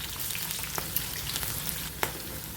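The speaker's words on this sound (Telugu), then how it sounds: "ఇప్పుడు కొద్దిగా జీలకర్ర, కరివేపాకు, పచ్చిమిర్చి, అల్లం తరుగు వేసుకొని ఇవి బాగా ఫ్రై చేసుకోవాలి." Cumin, curry leaves, green chili and chopped ginger fry in hot oil in a pan for vermicelli upma, giving a loud, dense crackling sizzle with a few sharp pops, and no talking.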